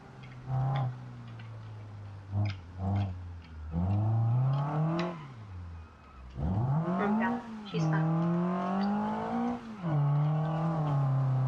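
A car engine accelerates through the gears, its pitch rising in long sweeps, dropping sharply at each shift and climbing again, loud and close for the whole stretch.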